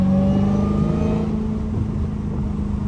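A loud, deep Dodge Hellcat engine revs and rumbles steadily, its throaty drone filling the whole stretch with no talking.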